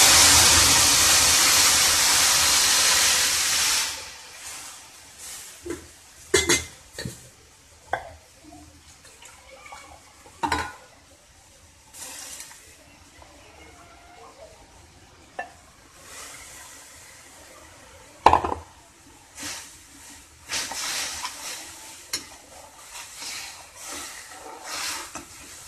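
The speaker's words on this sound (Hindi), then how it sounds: "अब हम अपनी छाछ का बैटर ऐड कर लेते हैं।" Buttermilk batter for kadhi pours into a pan with a loud wet rush, then a spoon stirs and scrapes in scattered clinks and sloshes, fairly close, without talk.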